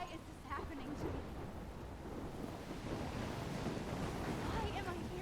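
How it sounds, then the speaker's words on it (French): Storm wind and crashing waves from the video game Life is Strange make a steady, dense roar that fills the whole stretch, with a voice faintly audible under the noise. "Encore la tempête."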